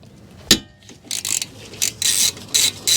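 A 14mm socket on a long-handled Nepros ratchet works the brake caliper bolts on a Lexus RX300, opening with a sharp crack as a bolt breaks free, then bursts of close, clicking ratchet strokes.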